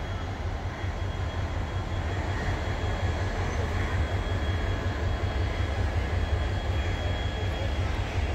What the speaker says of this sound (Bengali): Kamalapur rail station,